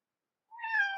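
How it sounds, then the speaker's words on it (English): A single cat meow starts after a brief silence and rises into a clear, drawn-out cry nearby, fairly loud, with no other sounds. "I have a cat beneath my feet, perhaps you hear it."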